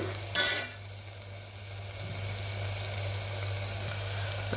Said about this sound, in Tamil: ஒரு அஞ்சு நிமிஷம் மட்டும் வதங்கட்டும்